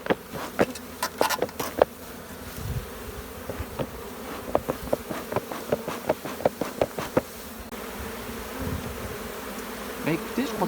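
A dense swarm of honeybees hums steadily, with individual insects zipping close by in sharp passing buzzes over the continuous drone, as the swarm is gathered with smoke.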